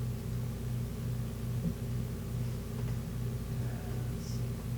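A car engine drones and revs faintly in the off-road racing video game Need for Speed 3, a steady low rumble with slight pulsing throughout and no talk.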